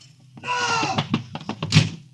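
In an old-time radio crime drama, a door slams shut with a heavy wooden thud after a strained cry, followed by a few knocking thumps and a loud final bang.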